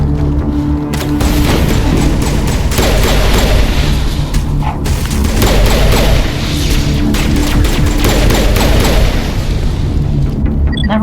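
Energy-weapon gunfire in the video game Mass Effect Legendary Edition: a loud, sustained barrage of booming bursts and crackling blasts that runs almost unbroken for the whole stretch, with only brief dips between volleys.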